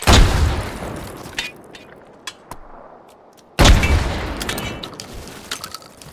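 A shotgun firing in H3VR: two loud, close blasts a few seconds apart, each with a long ringing decay, and a couple of faint mechanical clicks in the gap.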